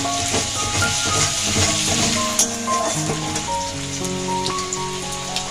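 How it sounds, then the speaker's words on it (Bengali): Chopped ginger frying in hot oil for a cauliflower Manchurian makes a loud, steady sizzle with occasional stirring, close up over soft background music. "আর 1 চামচ আদা কুচোনো তেলে ভেজে নিতে হবে।"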